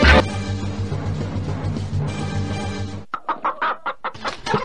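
A chicken clucks in short, uneven bursts close by, following a few seconds of noisy rustling.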